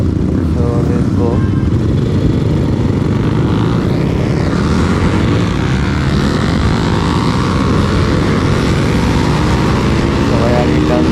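Steady, loud engine drone of a Pulsar 200 motorcycle ridden two-up on the road, continuous throughout with wind rush and no speech.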